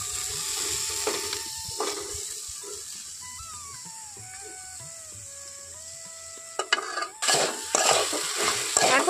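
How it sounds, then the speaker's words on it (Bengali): Taro flowers fried in spiced masala for village-style pakora, stirred with steady scraping over a continuous close sizzle that turns louder and busier near the end; no talking. "এখন এখানে কচু ফুলগুলো খুব ভালো করে এখানে ভাজা ভাজা করে নেব"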